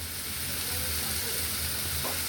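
Carrots drop into hot oil on a gas stove turned low, and a steady, even sizzle and hiss runs throughout without a break.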